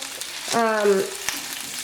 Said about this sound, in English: when you're frying with oil, see these little splatters?